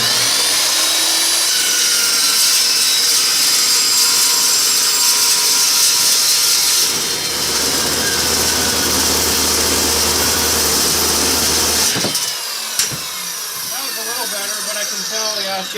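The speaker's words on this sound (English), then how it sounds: "Normally with a good sharp blade that should cut through that in probably 3 or 4 seconds roughly-ish" Power saw with a worn blade cutting through material: a loud, steady whining drone held for about twelve seconds, then stopping with a clunk and a fading rundown.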